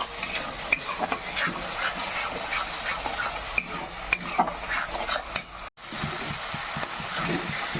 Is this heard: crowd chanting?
no